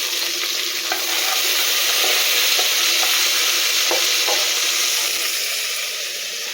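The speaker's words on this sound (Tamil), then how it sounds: "வெங்காயம் நல்லா வதங்கட்டும்" Chopped onions sautéing in hot oil for mushroom biryani, a loud, steady, close hiss and crackle with light scraping stirs throughout, no voices.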